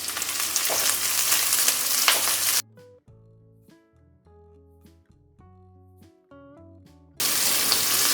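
Onion, garlic and curry leaves frying in hot oil give a dense, steady sizzle that cuts off for a short musical interlude and then returns just as loud.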